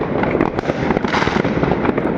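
Fireworks exploding during a holiday in Denmark, a dense, continuous barrage of loud cracks and booms coming from all around without a break.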